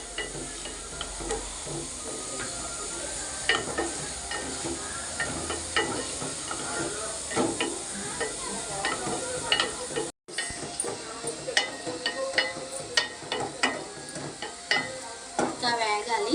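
Half a kilo of chicken frying with three small onions in a pan, a loud continuous hiss and sizzle with frequent stirring scrapes and clinks, close up and steady throughout with no talking.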